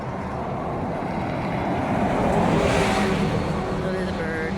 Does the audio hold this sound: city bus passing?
yes